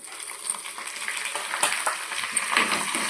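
Dried red chillies, cumin seeds and curry leaves frying in oil with onions for an onion chutney, a steady close sizzle with occasional crackles and stirring scrapes.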